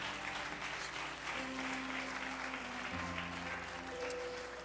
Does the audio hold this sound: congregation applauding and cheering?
yes